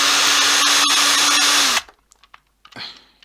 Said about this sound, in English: One thing I will do is just drill a couple of more times